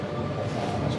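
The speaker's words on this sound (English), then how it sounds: "we are on a tram heading to Shopville" Steady low rumble of a tram ride heading toward Shopville, a continuous loud interior drone with faint rail noise throughout and no talk.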